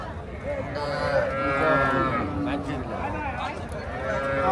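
Local and foreign calves at a crowded cattle market give drawn-out moos beneath steady, nearby talk and general market bustle.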